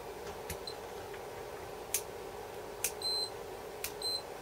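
A Fluke 87V multimeter gives short continuity beeps, three brief tones spaced about a second apart, standing clear over a steady low background hum.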